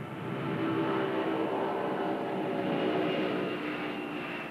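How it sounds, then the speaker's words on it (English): Pan Am airliner Clipper New Horizons taking off, a steady broad roar of jet engines at moderate distance, even and sustained without voices. "Today's takeoff of Clipper New Horizons symbolizes the tremendous advances made since then by international aviation"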